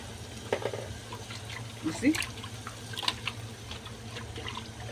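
Water runs from a kitchen tap into a blender holding leftover tomato, a light splashing trickle under a person speaking briefly nearby.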